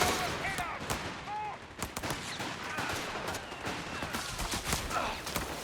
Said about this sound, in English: MG in the building, getting the suppression in